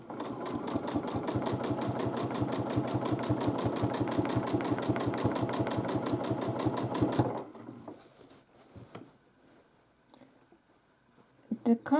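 A domestic sewing machine stitches a feather quilting pattern on a large quilt, running in a fast, steady rhythmic chatter for about seven seconds before stopping, followed by quiet handling noises and a few faint clicks.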